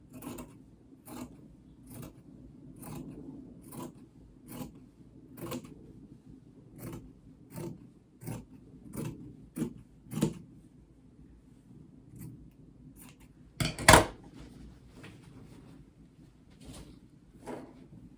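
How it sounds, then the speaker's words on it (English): Scissors cutting fusible interfacing fabric for a waistband: steady, quiet snipping clicks about once a second, with one louder, sharper cut near the end. "Now I'm cutting the fusible interfacing."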